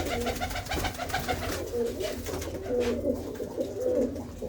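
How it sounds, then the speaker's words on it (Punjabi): Soft, repeated cooing of a pigeon with a henna-coloured neck and white eyes, low throaty notes rolling on steadily inside a fort, with other birds murmuring in the background. "ਆਹ ਦੇਖੋ ਇੱਕ ਮਹਿੰਦੀ ਰੰਗੀ ਧੌਣ ਦੇ ਉੱਤੇ ਚਿੱਟੀਆਂ ਅੱਖਾਂ ਦਾ ਕਬੂਤਰ ਆ"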